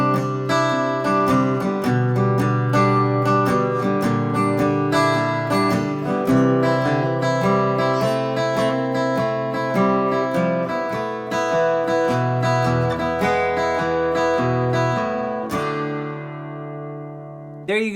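Acoustic guitar playing the full note-for-note intro of a song, a steady picked pattern with upstrokes running continuously for about fifteen seconds before a final ringing chord.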